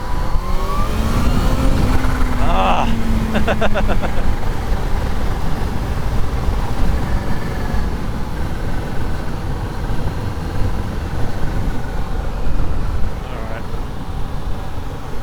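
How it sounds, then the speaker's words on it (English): A Kawasaki Z H2 supercharged motorcycle on the road, its engine roaring steadily with wind rush. A brief rapid fluttering chatter comes in early as the throttle eases, then the engine note carries on continuously. "that supercharger flutter though"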